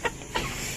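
Chickens raised from an incubator on a Philippine backyard farm give two short, fairly faint clucks, spaced about a third of a second apart.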